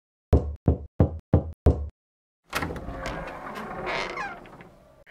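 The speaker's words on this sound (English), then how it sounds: "Gray knocks on the door after that." Five sharp, evenly spaced knocks on a door ring out clearly in a quiet room, followed by a longer burst of bright, lively sound.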